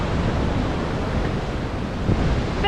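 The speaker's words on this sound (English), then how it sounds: "look how insane the waves are." Huge ocean waves crash and surge at Newcastle Beach in New South Wales, a loud, continuous roar of surf mixed with gusting wind buffeting the microphone.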